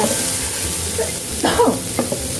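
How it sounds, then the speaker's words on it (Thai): Shrimp and squid are tipped into a hot pan with fried garlic, setting off a loud burst of sizzling and spattering over a steady frying hiss, with stirring scrapes following. "กุ้งหมึกที่เราพักไว้เมื่อกี้ลงไปเลยค่ะ"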